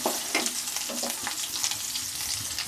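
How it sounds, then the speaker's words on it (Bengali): Potatoes crackle and sizzle steadily in hot oil, close up, with a spatula occasionally scraping through them. "এই আলুটা দিয়ে দিয়েছি আলুটাও আমি ভেজে নেব"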